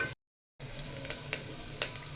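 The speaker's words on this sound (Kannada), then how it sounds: "ಪಡ್ವಳ್ಕಾಯಿ ಪಾಡುವೆ ದೆನ್ ಚೂರು ಕೊಡ್ತು ಎಣ್ಣೆಡು ಫ್ರೈ ಮನ್ಪುಲೆ" Pieces of snake gourd fry in oil for sambar, giving a steady, soft sizzle with a few stirring clicks, close by and faint after a brief silent gap, with no talking.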